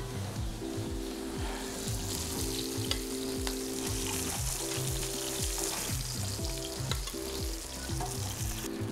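Beef burger patties frying on a hot surface, a dense, loud, continuous sizzle and crackle, up close, with faint music playing underneath and no talk.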